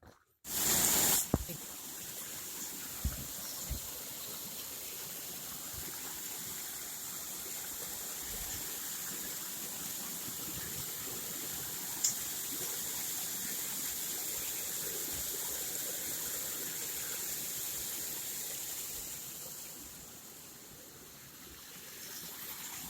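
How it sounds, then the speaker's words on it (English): Willow Creek, a mountain stream in Colorado, flows with a steady, soft rushing wash that continues throughout. A few brief clicks and handling knocks occur near the start. "I think this is Willow Creek, or one branch or fork of it or something."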